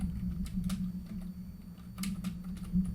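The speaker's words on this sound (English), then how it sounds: "Let me type her in." Typing on a computer keyboard: scattered soft key clicks in a few short bursts, fairly faint, over a steady low electrical hum.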